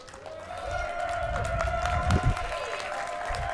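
Crowd noise at a Tekken 8 Top 16 tournament at Midwest Mixfest, a steady hubbub with scattered claps and a brief louder burst, mixed with a tonal hum from the venue.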